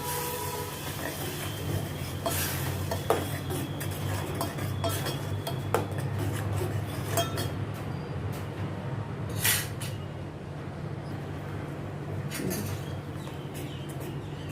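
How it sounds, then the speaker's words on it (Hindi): Tomato puree being stirred into masala in a home kitchen pan for aloo bhindi sabzi, with steady scraping and clinking of a spoon against the metal pan over a continuous low hum. "इसको अच्छी तरह से मैं ये मसाले के साथ ये टमाटर प्यूरी को भी मैं मिक्स करती हूँ।"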